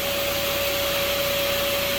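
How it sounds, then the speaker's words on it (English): A vacuum cleaner with its nozzle set by a giant hornet nest in a horse stall runs steadily and loudly, a constant suction roar with a sustained tonal whine. "So we'll just set that vacuum nozzle there for a little bit, and we'll catch any ones coming back from foraging."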